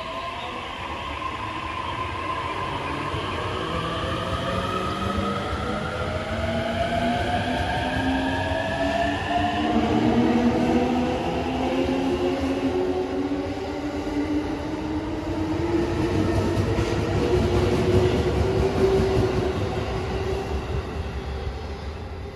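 A JR Tokaido Line train pulls into a station platform at midday. A long, loud rolling rumble is joined by gliding, descending tones from the motors and brakes as the train slows.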